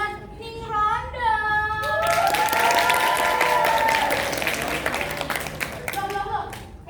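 An audience applauds a performer after a song, a dense burst of clapping lasting a few seconds, with a voice speaking before and after the applause.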